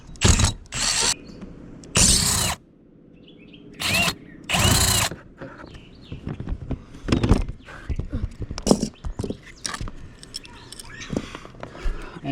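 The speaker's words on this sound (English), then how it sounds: "Then we're going to remove these screws." A power drill backs out screws from a bathroom vent fan during a Maxx Air fan install, with several loud bursts of whirring and ratcheting separated by pauses, then lighter clicks and handling noises.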